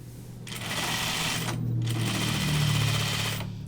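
A sewing machine stitching a French seam on a caftan garment, a steady close mechanical whirring and needle hum running in two short bursts with a brief pause between.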